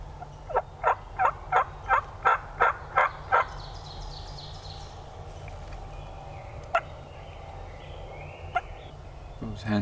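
Wild turkeys gobble in a spring field, a rapid string of about eight throaty calls near the start, then a couple of isolated gobbles and soft bird chatter over a quiet outdoor background, with no talk.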